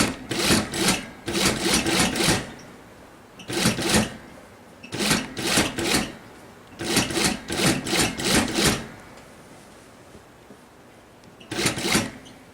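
A sewing machine stitches a pleated round-neck tee in short repeated bursts, a few seconds of rapid needle chatter then pauses, close and clear with no voices.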